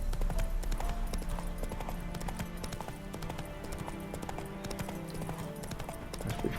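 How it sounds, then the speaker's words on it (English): Horse hooves clip-clop in a steady galloping rhythm as Roach is ridden across the countryside in The Witcher 3: Wild Hunt, loud and continuous with game ambience beneath. "We'll get this one on horseback, I think."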